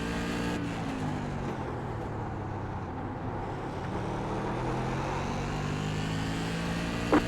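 Modified race car engine in a NASCAR racing video game, a steady, loud engine drone held under throttle throughout, rising and falling slightly in pitch with a brief click near the end.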